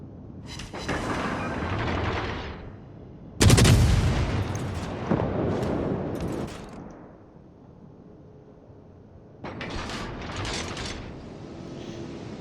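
Destroyer guns firing in World of Warships gameplay, heavy booming salvos in separate bursts with mechanical clatter and rumbling tails, at moderate loudness and with no speech.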